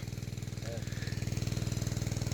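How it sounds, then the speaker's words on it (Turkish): A water pump motor runs in an irrigated field, its small engine chugging in a fast, regular pulse that grows slightly louder, close by, with a brief voice heard partway through. "su motoru."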